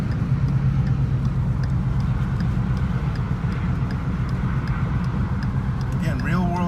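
A 2014 Ford Raptor truck drives along steadily, its engine and road noise forming a continuous low rumble throughout, with a brief voice near the end.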